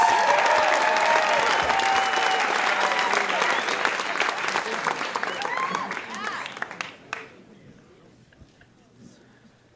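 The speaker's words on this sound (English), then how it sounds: "round of applause for Matthew Dix." A theater audience at a storytelling slam gives a round of applause: loud, dense clapping and cheering that holds for several seconds, then thins to scattered claps and fades to near silence.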